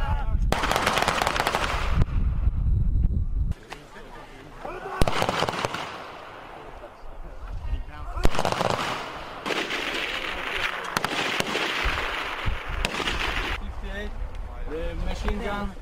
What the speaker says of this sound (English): Machine gun. Machine gun.